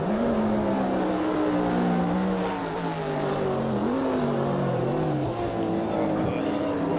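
Classic sports race cars in the GT Legends racing game, their engines droning steadily with shifting pitch as they run the course, mixed with continuous commentary over the top.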